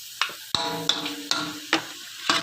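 A spatula scrapes and clanks against a seasoned black wok while vegetables sizzle in a stir-fry of Thai holy basil, strokes landing every half second or so over a steady frying hiss, close and fairly quiet.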